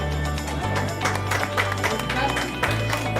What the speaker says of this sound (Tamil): ப்ளீஸ் ஒரு நல்ல கைத்தட்டலோட எவ்ரிவன்